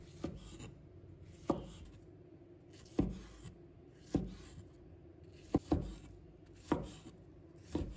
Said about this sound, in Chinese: 再把它切成块。